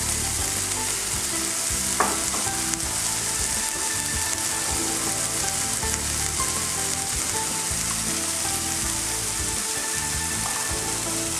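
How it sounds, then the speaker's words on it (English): Eggs with vegetables, chopped cilantro and oregano sizzling in a frying pan for a frittata, a steady loud crackle and hiss with occasional scrapes and stirring clatter, close and continuous without talk. "And I'm going to stir that up in the eggs"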